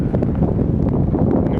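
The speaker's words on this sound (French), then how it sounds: "On a du vent à gogo toute la journée." Strong wind buffets the microphone in a steady, loud, low roar with no break, heard outdoors all day on a long journey out of Dunkirk.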